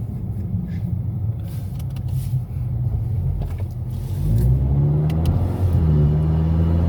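A 500 hp EcoBoost Mustang engine revs hard from inside the car, a loud, steady rumble with no talk that swells louder after about four seconds.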